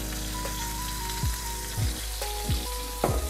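Vegetables for a steak dish sizzle and crackle in a frying pan, a steady close hiss with occasional tossing knocks from the pan and utensil, no voices.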